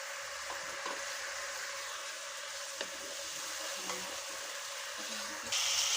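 Chilli chicken sautéing in a pan, a soft steady sizzle with a few faint stirring knocks, close and fairly quiet, growing brighter and louder at the very end.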